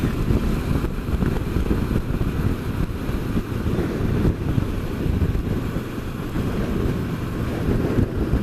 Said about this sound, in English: You see how it's blowing now, look. This wind's got up while I've been out on the bike.